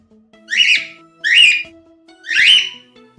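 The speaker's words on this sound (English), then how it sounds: "Parrot." A parrot gives three clear, loud whistles about a second apart, each a rising, harmonic-rich call standing alone over a faint steady hum.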